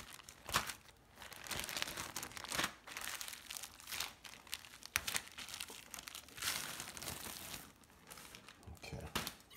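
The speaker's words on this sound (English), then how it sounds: "saran wrap." Saran wrap plastic crinkles and crackles in bursts while sushi is being rolled, close up and fairly quiet, with irregular rustling handling noises between louder crinkles.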